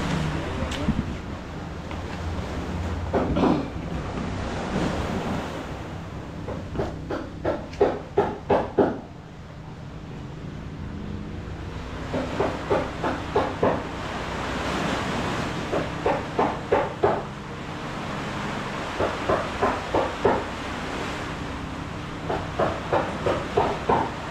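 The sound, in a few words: rough sea waves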